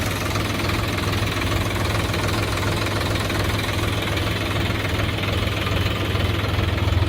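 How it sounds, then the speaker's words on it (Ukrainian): A Solis RX 50 tractor's three-cylinder Mitsubishi engine idles with a steady, low, knocking rumble that holds at the same level throughout, close by. "Двигун на даному тракторі у нас від заводу Mitsubishi."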